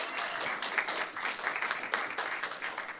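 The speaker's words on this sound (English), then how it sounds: "How about a round of applause for all of our candidates up here real quick?" Audience applause for candidates at a student government debate, a steady wash of clapping sustained evenly for about three seconds, moderately quiet and without speech.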